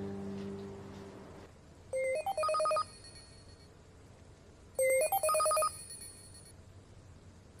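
A mobile phone ringtone for an incoming call, two short melodic bursts of bright electronic tones separated by a pause, loud and clear over quiet background.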